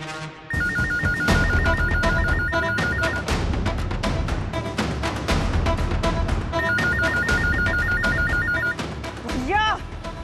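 A telephone bell rings in repeated bursts over busy music and voices, loud and close, the rings returning after a pause.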